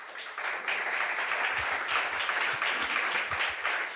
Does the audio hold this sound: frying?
no